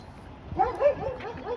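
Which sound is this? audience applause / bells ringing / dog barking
dog barking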